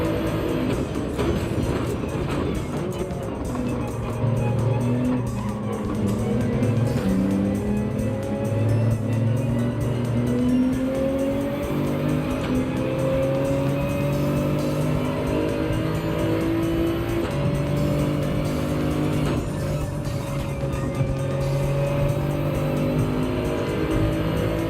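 A race car in Gran Turismo 7 revs hard and continuously, its engine note climbing and dropping through gear changes with occasional tire squeal, loud and steady throughout.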